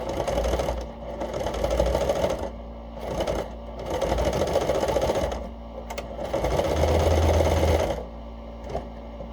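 A sewing machine stitches a zigzag across a small piece of fabric for a mask, running in three or four loud, close bursts of steady mechanical whirring separated by short pauses.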